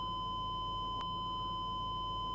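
A car's safety system sounds a steady high electronic tone continuously over a low engine hum, with a brief click partway through.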